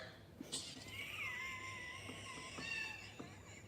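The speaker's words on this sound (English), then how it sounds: "The cat is freaking out." Agitated cat meowing, a drawn-out wavering yowl with rising and falling pitch, fairly faint against a background hum, with brief soft clicks.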